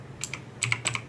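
Keys clack on a computer keyboard as a command is typed, several quick clustered taps in two short bursts, close and crisp with no voice.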